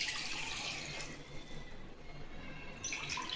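Water poured into rice for chicken biryani, a soft continuous hiss of flowing liquid that eases off midway and swells again at the end, fairly quiet and without talk.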